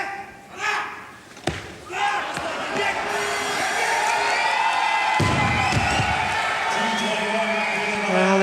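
A weightlifting crowd at the 2015 world championships in the 94 kg class, building from scattered sharp thuds and shouts into sustained cheering and applause that holds loud and steady to the end.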